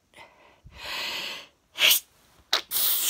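A person sneezes repeatedly, alone and close: a long noisy breath, then sharp explosive bursts separated by brief silences and quick gasping inhales.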